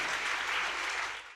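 A large audience of thousands, standing, applauds steadily in a dense wash of clapping that fades out at the end.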